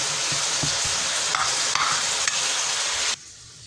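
Cooked rice being mixed into okra sauce, a steady wet, scraping stir with broadband hiss and soft low knocks that runs close and even for about three seconds before cutting off to near silence.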